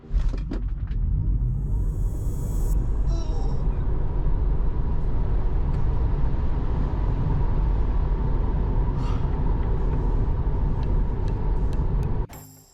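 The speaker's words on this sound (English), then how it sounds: "The 2020 Tesla Model 3 is also a very fast model." A 2020 Tesla Model 3 accelerating hard on a highway, heard as a loud, steady rumble of road and wind noise that holds for about twelve seconds before cutting off.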